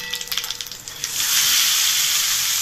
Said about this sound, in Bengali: ফোড়নটা একটু নেড়ে চেড়ে ভালো করে ভেজে নেব।